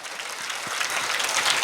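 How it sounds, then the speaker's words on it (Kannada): Dense clapping from a large audience at a religious discourse, a continuous wash of many hands at fairly loud level across the whole short stretch, with no voices over it. "ಜೋರು ಚಪ್ಪಾಳೆ ತಟ್ರ ಅವ್ರು"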